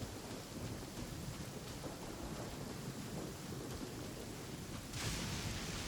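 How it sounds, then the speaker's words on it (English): Rain and thunder in the video game Genshin Impact: a steady, dense hiss of downpour with low rumbling throughout, swelling brighter and louder near the end, with no voices. "It's raining again. This will hinder our vision."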